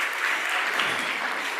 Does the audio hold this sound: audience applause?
yes